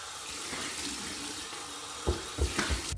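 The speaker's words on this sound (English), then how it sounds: "We're gonna go with our cold water rinse now." Cold tap water runs for a rinse after a shave, a steady soft hiss of flowing water, then a few louder splashes and gurgles near the end, with no talk.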